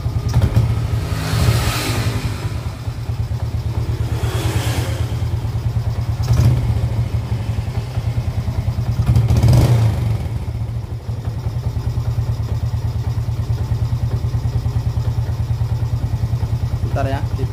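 A Jupiter Z motorcycle with weak, sluggish power and a struggling idle runs steadily up close, with a few short throttle blips that rise and fall over the continuous engine drone.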